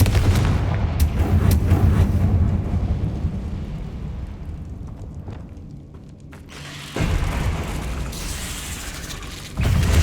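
A Confringo blasting spell explodes in the Feldcroft catacomb in Hogwarts Legacy, a loud booming blast with a rumbling tail that slowly fades, followed by further heavy impacts and crackling noise near the end.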